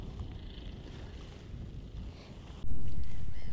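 Strong wind on a river shore during fishing roars continuously against the microphone, a dense rumbling buffet that jumps louder near the end.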